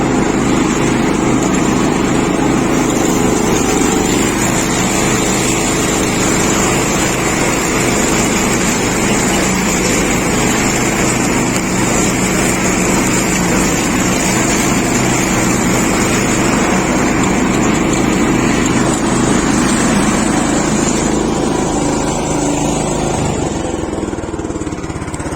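A 25-year-old John Deere GX75 riding mower idles steadily with a loud, close engine drone that holds for a long stretch and then shifts slightly in tone near the end.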